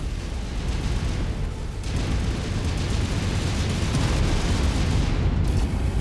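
Fuel tanks blow up in the MechWarrior 5 mech combat game, a continuous roaring wall of explosions and crumbling blasts that swells slightly louder after a brief dip, with no voices over it.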